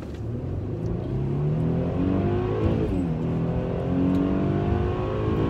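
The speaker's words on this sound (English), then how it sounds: "As you can see, the acceleration on this particular vehicle is amazing." A 2013 Mercedes E350 4Matic accelerates hard in sport mode, and its engine note climbs steadily across several gear changes. The loud interior engine sound is continuous, with no talk over it.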